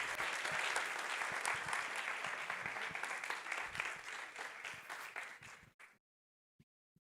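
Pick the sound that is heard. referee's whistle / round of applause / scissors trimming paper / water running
round of applause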